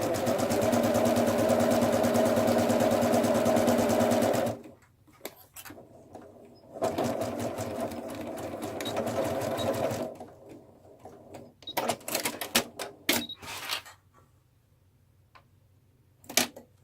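A sewing machine stitches around the edge of a bunny gift bag in two loud, steady bursts separated by a short pause, followed by softer clicks and fabric handling.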